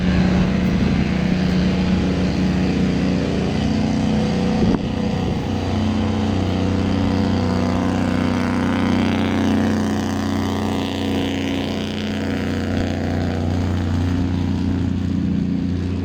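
A truck driving past, heard as a loud, sustained low engine rumble with road noise that shifts pitch midway as the vehicle passes close by, with no talking.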